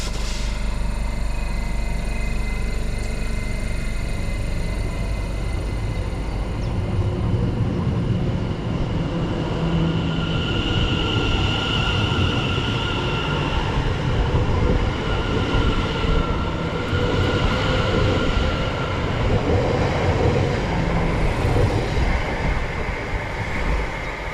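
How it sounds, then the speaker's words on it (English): A passenger train rumbles steadily, its rolling noise building and shifting as it pulls away from Sawbridgeworth station, with a continuous hiss and no voices. "as the train now leaves Sawbridgeworth"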